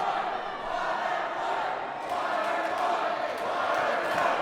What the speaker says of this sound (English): Crowd taunting Dominant Arsenic, trying to get under somebody's skin.